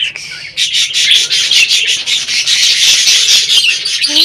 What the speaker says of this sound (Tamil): Love birds.